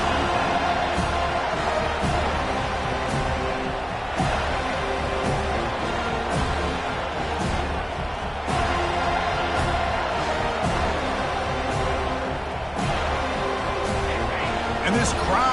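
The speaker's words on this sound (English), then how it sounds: "And this crowd coming to life here, trying to help the defense get a stop with the offense pinned back." Stadium crowd in the NCAA 25 college football video game, a steady roar of cheering that rises and builds with the offense pinned deep, heard beneath continuous play-by-play commentary.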